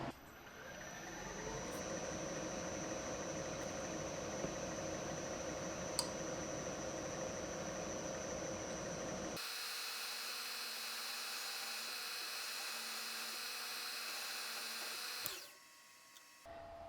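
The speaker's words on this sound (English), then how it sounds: "we're gonna mill out where the firing pin's gonna go" A milling machine cuts the channel for the firing pin into the stock of a homemade 12 gauge shotgun perimeter alarm. It gives a steady, fairly quiet motor hum with a constant tonal whine, changes pitch partway through, then briefly drops out near the end.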